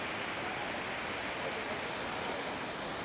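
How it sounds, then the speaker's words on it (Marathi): A river in spate carrying a large volume of water, giving a steady, dense, even roar of rushing water with no breaks and no voices. "नदीचा प्रवाह खळाडून वाहतोय मोठ्या प्रमाणात पाणीसुद्धा आहे नदीच्या पात्रात"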